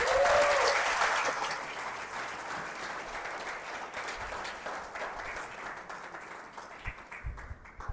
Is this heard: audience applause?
yes